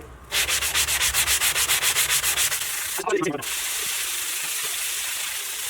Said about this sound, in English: I'm going to take my little sanding brick right here and just kind of go over it